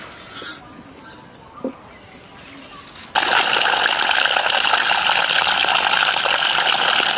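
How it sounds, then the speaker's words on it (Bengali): Taro is washed under running water from a tap, which starts abruptly and gushes steadily and loudly after a quiet stretch with faint handling sounds. "যাই কচুটা ভালো করে ধুয়ে নিই।"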